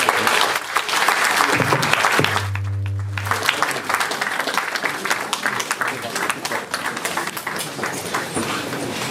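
Audience applause after a speech at an event honouring former Nigerian President Olusegun Obasanjo: dense, sustained clapping from a large crowd throughout, with a short low hum or tone briefly cutting in near the start.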